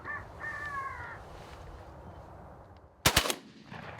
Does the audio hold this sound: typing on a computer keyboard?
no